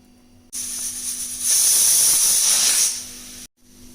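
A pressure cooker whistle releases a loud, sharp hiss of escaping steam that rises and holds for a couple of seconds over a low background hum, then cuts off abruptly.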